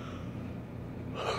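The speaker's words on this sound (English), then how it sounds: "I'm tired, and my yawn looks terrible." A single tired yawn, a soft breathy inhale that swells into a louder open exhale near the end, close and alone without talk.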